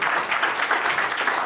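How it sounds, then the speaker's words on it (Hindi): Audience claps steadily and enthusiastically, welcoming a participant at a felicitation ceremony for 38th National Games athletes, a dense, continuous applause with no pauses. "और जोरदार ताली बजाकर आपका स्वागत"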